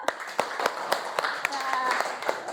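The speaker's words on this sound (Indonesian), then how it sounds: "Tepuk tangan dulu." A classroom of pupils claps together in a burst of sharp, rhythmic handclaps close by, with a teacher's voice and children's chatter mixed in.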